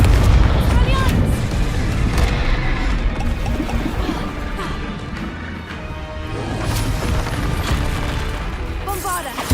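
Spell blasts from Confringo and other fire and disarming spells in Hogwarts Legacy boom and crash in dense, loud succession over a constant wash of game effects, with character voices calling out across the fight.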